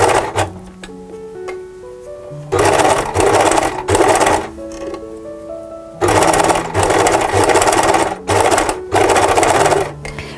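A sewing machine stitches a fabric jar cover in loud running bursts of mechanical whirring, separated by short pauses, with quiet musical tones underneath.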